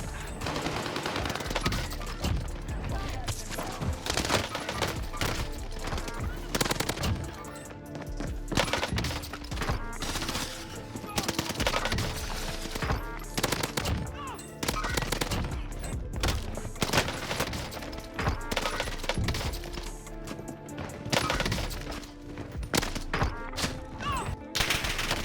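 Suppressed H4 Blixen gunfire in a video game, rapid bursts of muffled shots crackling repeatedly over a busy, dense game soundscape with constant background action.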